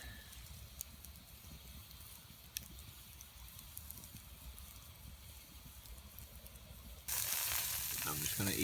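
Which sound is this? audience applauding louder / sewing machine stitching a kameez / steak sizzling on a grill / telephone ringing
steak sizzling on a grill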